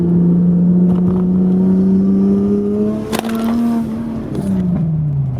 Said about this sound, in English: it is one of the best sounds I've heard like from an engine